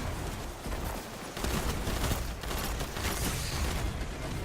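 Dense, continuous gunfire from a Destiny 2 Gambit match, a steady barrage of rapid shots and impacts filling the whole stretch at moderate loudness with no talk over it.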